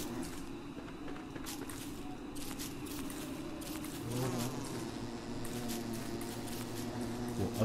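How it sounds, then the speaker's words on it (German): A continuous bee buzz in the video game Don't Starve hums throughout, swelling louder partway through, with soft background noise beneath it. "Da, hier kommt die Biene."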